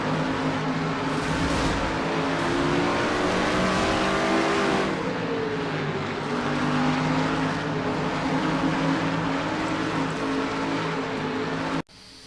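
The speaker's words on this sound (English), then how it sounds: "here's a driving job from the second in-car camera, Jessica Shelton's car." Loud race car engine heard from an in-car camera at North Wilkesboro, a continuous droning roar with shifting pitch as the car accelerates and lifts through the corners, then cutting out abruptly at the end.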